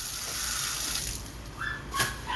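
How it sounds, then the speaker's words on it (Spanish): Pressurised water pours steadily from a tap at a hand-washing sink, a broad continuous rush that stays close and fairly loud throughout, with no speech. "Hay agua a presión."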